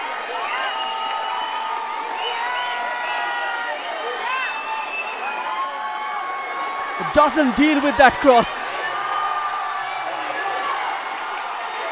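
A stadium crowd at an India versus Nepal under-19 men's football match roars after India's goal, a steady loud wash of cheering with a commentator talking over it and a brief burst of thumps near the end.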